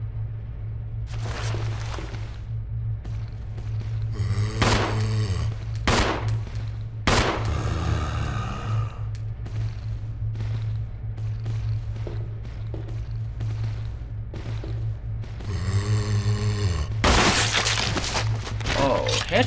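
Gunfire from the Resident Evil 0 HD video game: bursts of rapid, loud shots and sharp single blasts over a steady low hum of game ambience, with a player's voice briefly heard between volleys.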